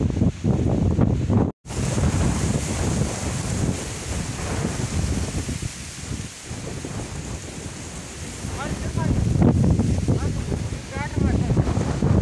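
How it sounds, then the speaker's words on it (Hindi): Strong wind blasts across an open millet field as bad weather sets in and rain begins, a loud, rumbling roar buffeting the microphone with a brief cut near the start. "मौसम बहुत ही ज्यादा खराब हो गया, हवा चल रही है, बारिश भी आने लग गई धीरे धीरे"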